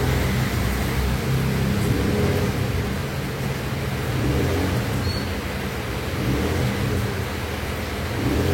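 Yamaha Nmax scooter engine running steadily after a battery replacement, a loud continuous idle hum filling the whole stretch with no break or revving.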